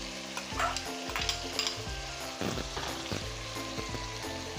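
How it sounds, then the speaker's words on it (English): Ground meat and garlic stirred in a soup pot for low-carb stuffed pepper soup, a soft sizzle beneath repeated rhythmic scraping strokes of a spoon, close up and moderately quiet, with no one talking. "And then I'm going to stir this up."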